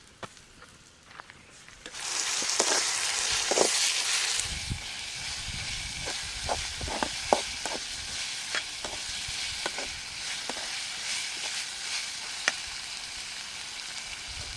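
Ginger-garlic paste dropped into a pan of sautéed onions for a Tamil chicken curry, frying with a steady close sizzle that jumps in loudness after a couple of seconds, broken by the clatter and scrape of a spoon stirring.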